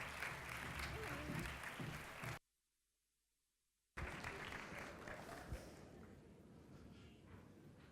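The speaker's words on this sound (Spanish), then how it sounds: "le damos un aplauso y lo recibimos en el escenario" An audience in a lecture hall claps loudly for a guest taking the stage, interrupted by a brief dead-silent gap, then the applause returns and gradually thins out toward the end.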